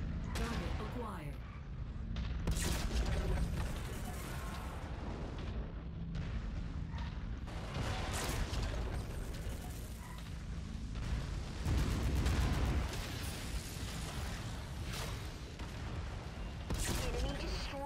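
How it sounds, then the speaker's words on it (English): Autocannon rounds firing in a mech video game, repeated heavy booming impacts and bursts scattered over the whole stretch, loud and rumbling, with a voice talking at times. "That was a lot of autocannon rounds out of nowhere."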